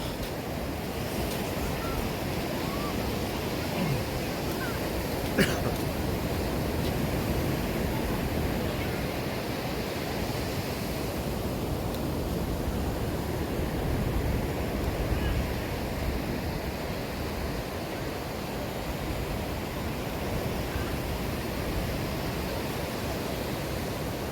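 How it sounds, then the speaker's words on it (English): A steady breeze buffets the microphone at Vilano Beach, Florida, blending with constant surf into a dense, even roar that holds the whole time without a break. "There is a bit of a breeze anyway."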